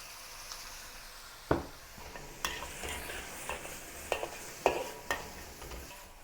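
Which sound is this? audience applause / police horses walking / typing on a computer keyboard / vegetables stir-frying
vegetables stir-frying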